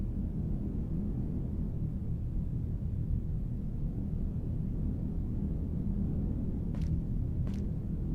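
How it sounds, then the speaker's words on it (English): A low, steady rumble of a storm passing in the survival video game Heat Death: Survival Train, broad and distant-sounding, with two brief faint high blips near the end. "I believe that is the storm passing."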